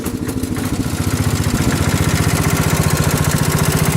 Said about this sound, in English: good old Kohler 8 horsepower K series. Can't beat these motors.